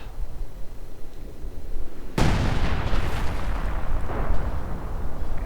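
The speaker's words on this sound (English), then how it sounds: "At the same time the howitzer's firing, and that does not get the camouflage, interestingly enough." Artillery fires in the WWII strategy game Company of Heroes 2, with howitzers and field guns in action. A loud deep boom cuts in sharply over a busy battle din and rolls on afterward with a rumbling tail.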